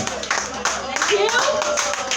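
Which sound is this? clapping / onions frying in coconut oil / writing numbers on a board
clapping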